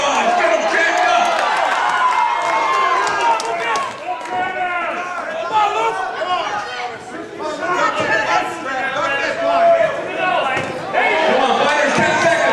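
A dense, loud crowd roars and chatters at a Bash & Brawl amateur fight event, the cheering swelling and dipping continuously while a voice talks over it.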